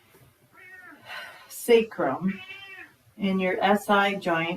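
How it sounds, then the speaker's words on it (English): A pet cat meows several times during a calm indoor yoga or stretching class, its cries rising clearly over and between a woman's steady instructional speech. "Apologies for my cat."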